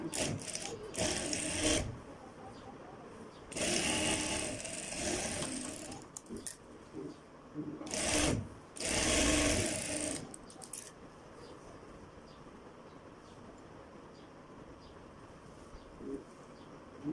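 Sewing machine stitching the front and back pieces of a gents Afghani kurta together, running in several bursts of a couple of seconds each with quieter pauses of fabric handling between them.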